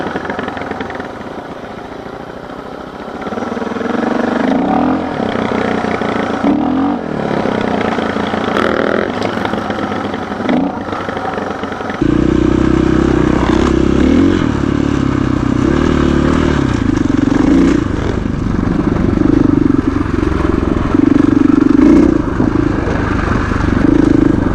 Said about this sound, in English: so now I'm on Mike's DR650.